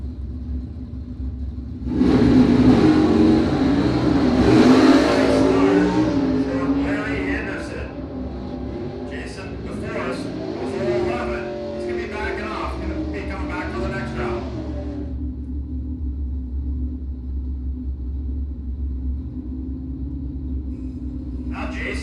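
A 2005 Chevrolet race car in an automatic class at a drag race makes a loud, deep engine rumble that swells early, then holds a steady roar for the rest of the run while an announcer talks over it.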